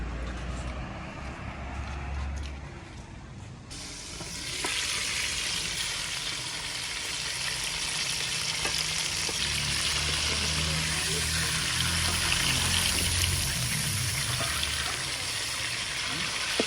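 Steady broadband sizzling of bitter gourd frying in hot ghee, loud and continuous after a quieter start, with faint clatter and low hum beneath, in a village mud house kitchen.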